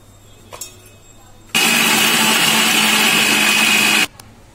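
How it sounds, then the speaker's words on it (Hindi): A kitchen mixer grinder pulverises Oreo biscuits, cream filling included, into powder in a mixing jar: a loud, steady motor whir with a gritty edge that runs for about two and a half seconds and then cuts off abruptly, with quiet surroundings before and after. "इन्हें मैं मिक्सिंग जार में डालकर ग्राइंड कर लूंगी।"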